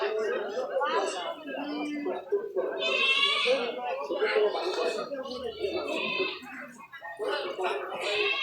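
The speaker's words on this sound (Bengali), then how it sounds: "শুধু ছাগলই উঠে এই হাটের মধ্যে" Goats bleat repeatedly at Pubail village market in Gazipur, a busy livestock haat where mostly goats and poultry are sold, their wavering cries rising over near constant crowd chatter and nearby talking voices.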